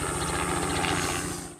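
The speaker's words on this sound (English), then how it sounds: "This helicopter is off to fight fire with fire." A helicopter flies out to drop embers for a mosaic burn on grazing country in Queensland, its rotor throbbing in a fast, steady low pulse with broad engine roar, loud and close, fading slightly at the end.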